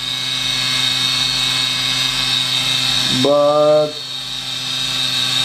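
A mini lathe whirs with a steady high-pitched mechanical whine, then briefly shifts into a rising harmonic tone before settling back to a constant drone.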